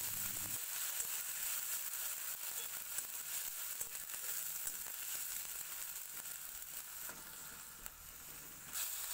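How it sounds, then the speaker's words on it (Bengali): Onion paste frying in a pan with chili and cumin seeds, giving a steady, soft, close sizzle that hisses on evenly throughout. "এখন একটু লাল লাল করে ভেজে নেব।"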